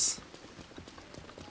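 Horse hooves clip-clop in a soft, even rhythm as a horse walks in the Breath of the Wild video game, quiet and continuous.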